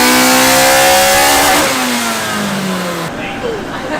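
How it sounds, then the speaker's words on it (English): A modified car engine revving hard toward around 8,300 RPM, loud and close with a rising then falling pitch and a raspy exhaust edge, with a voice speaking over it. "the higher it revs, the less exhaust leaky it sounds"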